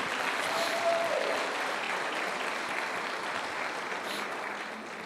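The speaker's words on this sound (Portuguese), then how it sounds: "Uma salva de palmas para os dois bonitos." A church congregation applauds during a worship service, a steady, dense wash of clapping that holds evenly from start to finish with no voices over it.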